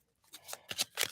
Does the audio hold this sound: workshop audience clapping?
no